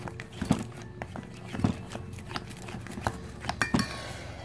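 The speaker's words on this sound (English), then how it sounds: "add a little more baking soda and stir and he's stirring" Slime mixture with baking soda being stirred in a bowl by a Baby Alive Annie doll: a busy run of small clinks and scraping taps from the utensil against the container, close and fairly steady.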